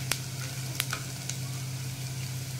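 Cashews sizzling in hot oil with sliced onions in a pan for veg pulao, a steady close frying hiss with a few sharp crackles and pops and no voices.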